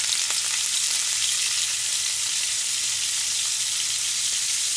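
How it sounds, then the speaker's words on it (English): Smoked herring pieces frying in hot oil, a steady bright sizzle with faint crackles throughout, close and continuous with no talking. "I cut them, and I'm gonna put them in the oil."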